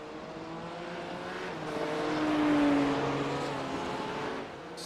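GT3 race cars, BMWs and Porsches, circulate in iRacing, with a steady engine drone that swells as one car draws closer and passes, then eases off, heard at moderate distance.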